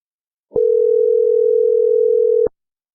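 A telephone line sounds a single steady tone that starts abruptly, holds loud and unbroken for about two seconds, then stops.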